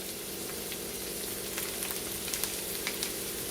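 Dried minced garlic sizzles in a hot pan, a soft steady crackle with a few sharper pops toward the end, heard alone.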